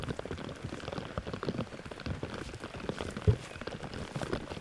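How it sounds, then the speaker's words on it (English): Steady rain patters on the ground and surfaces outdoors during a disc golf tournament round at the Vinberg Open, a continuous dense hiss with one brief louder knock partway through and no talking. "playing in the rain"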